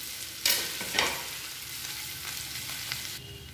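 Boiled potatoes broken into small pieces are tipped into masala in a pan and stirred for a masala dosa filling: a couple of quick scraping clatters over a soft, continuous sizzle, fairly quiet and close.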